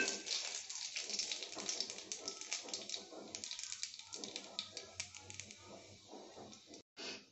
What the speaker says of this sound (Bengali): এইবার আমি রাঁধুনিটা ফোড়ন দিয়ে দিচ্ছি।